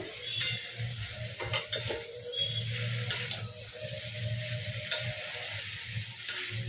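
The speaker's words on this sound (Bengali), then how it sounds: "এটাকে এবার ভালো করে মিলিয়ে নেব" Chowmein stirred in a pan after sugar, salt and vinegar are added; a soft sizzle continues under repeated clinks and scrapes of a utensil against the pan, with a steady low hum beneath.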